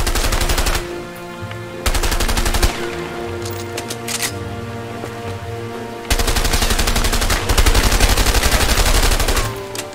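Gunfire in the video game A Way Out: long bursts of rapid machine-gun fire in loud repeated volleys, broken by short pauses and scattered single shots, with no talk over them.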